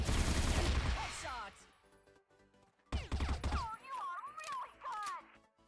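Rapid bursts of Gatling gun fire in the shooter game CrossFire, two loud dense volleys separated by a short lull, with whirring mechanical tails, over faint background game noise.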